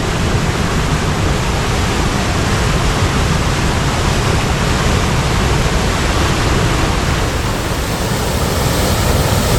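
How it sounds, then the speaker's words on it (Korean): A roaring waterfall swollen after heavy rain, about 80 m wide but only 3 m tall, on a basalt river gorge: a dense, loud, unbroken rush of falling water with no voices. "어제 그제 비가 와서 오늘은 수량이 많고 물소리가 우렁칩니다."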